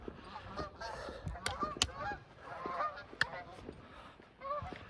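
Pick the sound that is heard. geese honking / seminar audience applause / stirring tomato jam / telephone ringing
geese honking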